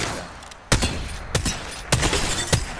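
Sharp, loud impacts in a shooter game as an enemy shield breaks, four distinct cracking hits spaced about half a second apart over a low background rumble, no talk.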